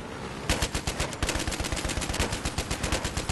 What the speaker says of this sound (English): I want to shoot somebody with this gun.